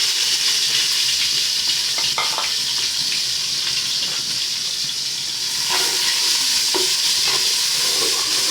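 Onions sizzling in a hot pan for fish fried rice, a steady bright frying hiss with occasional scrapes and stirs, close and continuous with no talking.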